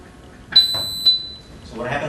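A shooting drill timer app sounds its electronic start buzzer for a standing pistol drill, two short, loud high-pitched beeps in quick succession, followed by a brief noisy burst.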